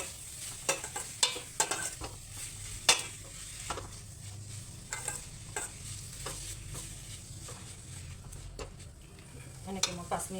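Grated carrot sizzles in a pan while being stirred, quiet steady frying broken by repeated sharp scrapes and taps of a spoon against the pan, close up, with no speech.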